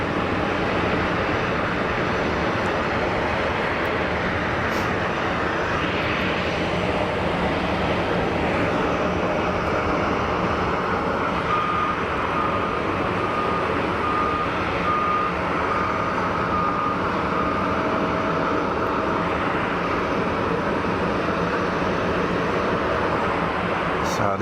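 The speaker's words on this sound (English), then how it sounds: "So this is an A350-1000." An Air China Airbus A350-1000 jet in Star Alliance livery taxis at Geneva Airport, a continuous loud broadband engine roar and whine that holds steady throughout.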